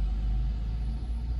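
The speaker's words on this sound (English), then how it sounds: "It's a 49 bus that goes to Norbrook," A number 49 bus bound for Norbrook at a Jamaican crossroads, heard as a steady low engine rumble close by, continuous and loud with no voices.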